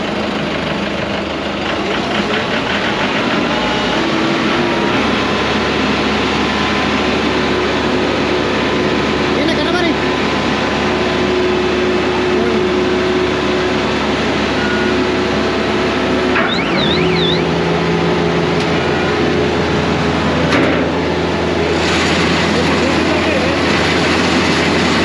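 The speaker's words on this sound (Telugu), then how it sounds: "ఇప్పుడైతే స్టార్ట్ చేసి హార్వెస్టర్ పనితీరు ఎలా ఉందో చూసేద్దాం." A Mahindra 2100 paddy harvester engine starting up and then idling steadily, a loud continuous drone with a constant low hum that runs the whole time.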